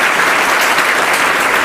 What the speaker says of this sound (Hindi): चलिए जोरदार तालियां हो जाए